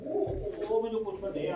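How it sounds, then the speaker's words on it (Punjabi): Pigeons in a loft coo close by in low, throaty calls, with someone talking over them. "ਕਬੂਤਰ ਬਹੁਤ ਹੀ ਸੋਹਣੇ ਕਬੂਤਰ।"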